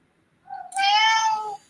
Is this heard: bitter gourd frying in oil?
no